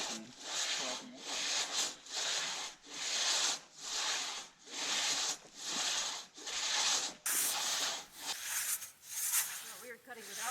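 A hand saw works through a fallen log in the wilderness, giving rhythmic rasping push-pull strokes about every 0.7 seconds, close and loud, with some talk between strokes near the end.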